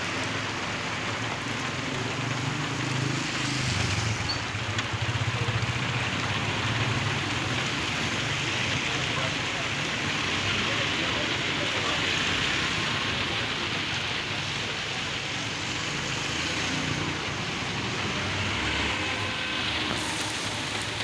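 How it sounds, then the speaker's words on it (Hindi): Heavy rain pours down in a residential neighbourhood, a dense, steady hiss of drops on surfaces that continues evenly without letup and without voices. "खूबसूरत बारिश, रहमत बारिश, रहमत की बारिश"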